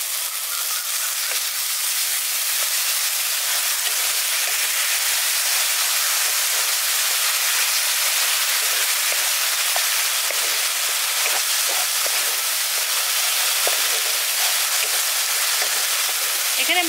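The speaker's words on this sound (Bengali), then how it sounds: "আমি সামান্য একটু জল দিয়ে দিচ্ছি।" Spice masala for a village-style carp curry sizzles hard after water goes into the hot pan, a dense, loud, continuous hiss with faint crackles that stays steady throughout.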